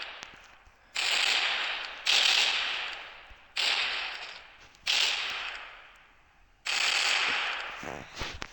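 Repeated bursts of video-game gunfire, five loud blasts each fading out before the next, spaced about a second apart, in a shooter with AK-47, P250 and grenades.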